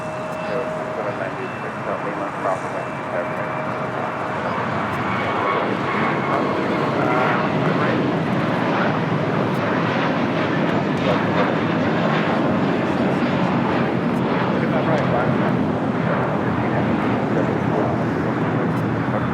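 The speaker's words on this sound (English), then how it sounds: "This is JetBlue 424 taking off to JFK on the A321." A JetBlue Airbus A321 taking off from LAX bound for JFK gives a broad, rising jet roar that builds and holds, heard from a distance with a voice talking over it throughout.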